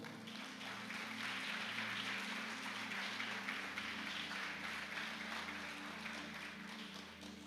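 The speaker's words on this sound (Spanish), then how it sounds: "¿Alguien puede darle un aplauso al Señor?" A church congregation applauds during a sermon: a faint, steady wash of distant clapping runs throughout over a low electrical hum.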